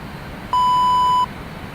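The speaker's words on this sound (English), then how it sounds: "That beep means you're dead on." A single steady electronic beep from a descent-guidance plugin in X-Plane 12, flying a Felis 747-200F freighter, holds for under a second in isolation over faint cockpit hum.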